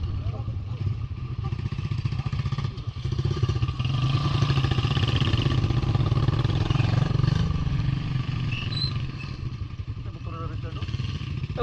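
A motorcycle engine runs steadily at a low idle-like throb near a beach spot, continuous throughout, with people talking over it.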